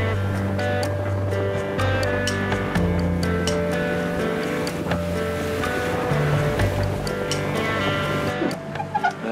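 Building offshore seas rush and break around a sailing yacht in 35-knot winds gusting into the low 40s, a loud continuous wash of water and wind noise with a faint steady tone throughout, no talk.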